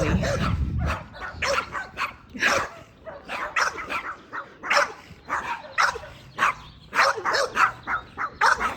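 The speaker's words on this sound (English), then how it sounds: "There's some more dogs. Oh, they're so excited to see me, right?" Several excited dogs bark and yip in quick, uneven bursts, close and loud, with whimpering between barks and a brief low rumble at the start.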